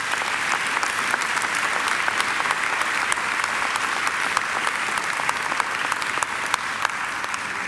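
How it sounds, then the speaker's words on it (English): Sustained applause from a crowd at a university graduation ceremony, steady and dense clapping throughout with no break. "I think Angela deserves another great round of applause."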